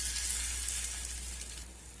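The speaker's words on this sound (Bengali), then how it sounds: "এখন অল্প অল্প করে এই মিশ্রণ নিয়ে বড়ার শেপে আমি ভেজে নেব।" Thankuni leaf and masoor lentil fritters fry in hot oil, giving a steady, close, even sizzle with no voices.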